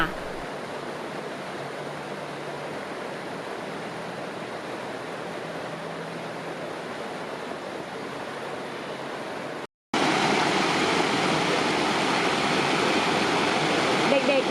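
A waterfall pours in a steady, loud broadband rush, cut by a brief silent gap before resuming even louder.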